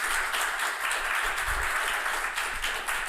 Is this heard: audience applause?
yes